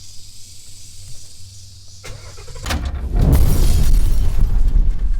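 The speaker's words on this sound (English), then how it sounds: "we're gonna start the car for the very first time. Let's see how it sounds." A 2017 Ford Mustang GT engine cranks and fires up, bursting into a loud, deep rumbling idle after a few seconds of quiet clicking and hum.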